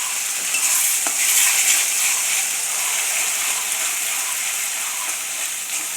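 Fish curry frying in a pan as tomato paste goes in, a steady close hiss and sizzle running evenly throughout with no talk.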